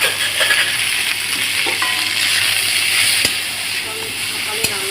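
Food cooking in a pan in a home kitchen gives a steady sizzling hiss throughout, with faint clinks of a utensil and occasional soft stirring sounds, no voices heard.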